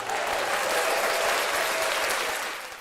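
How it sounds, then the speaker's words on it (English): Audience at a live broadcast show breaking into loud, sustained applause that swells with dense clapping and a crowd roar, then tapers off near the end, with no clear speech. "That deserved a big applause."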